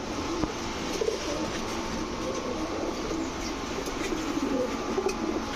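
Rampuri and Jhakgola pigeons coo softly and repeatedly over a steady background hiss, the low calls close but faint and overlapping, with no talk over them.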